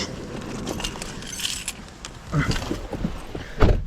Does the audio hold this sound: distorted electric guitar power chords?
no